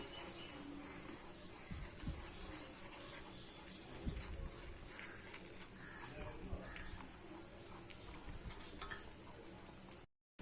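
Roasted rava poured into a pan over a medium flame and stirred for Kancheepuram upma, a soft continuous sizzle and scraping hiss with faint irregular stirring taps, fairly quiet and steady until it cuts off near the end.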